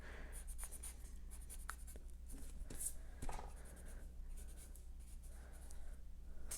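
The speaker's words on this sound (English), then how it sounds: "I wanted to draw Kong's arm in here." Pencil on paper drawing a Kong arm: steady soft scratching and scribbling strokes up close, continuous for several seconds with small pauses, quiet and alone over faint room noise.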